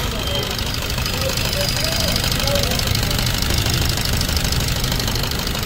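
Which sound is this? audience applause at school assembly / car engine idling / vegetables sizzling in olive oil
car engine idling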